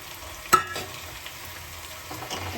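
Chicken goes into fried masala in a kadhai, starting with one sharp clatter and sizzle burst, then settling into a quieter, uneven frying crackle with occasional stirring noises and no speech.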